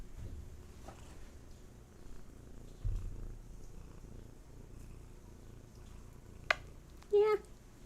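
A soft, low cat purr rumbles steadily close by, with a brief meow and faint handling noises near the end.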